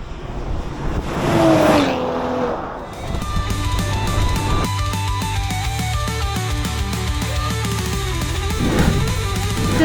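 BMW M240i xDrive and a rival car in a drag race, with engines roaring and revving hard, a brief tire squeal, then sustained loud acceleration nearby.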